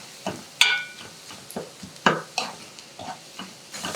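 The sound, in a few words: stirring spice paste into frying eggplant and potato curry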